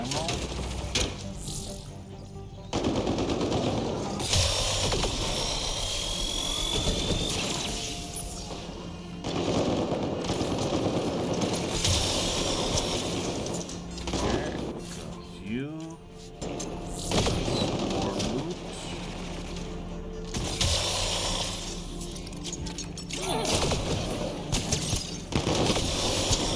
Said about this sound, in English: The sound effects for critical hits and headshots are satisfying.